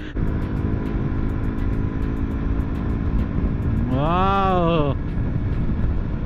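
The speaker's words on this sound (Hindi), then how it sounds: "बाइक मेरे पास आ रही है" A motorcycle engine draws near, swelling into a brief rising and falling whine that stands out over a constant low road rumble, heard at fairly close range.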